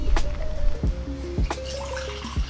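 Freshly brewed pour-over coffee, filtered through a Hario V60 paper filter, is poured slowly into a cup right to the brim, making a close gurgling trickle with a rising pitch and a few soft clinks.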